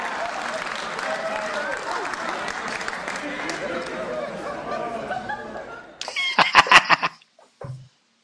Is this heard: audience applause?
yes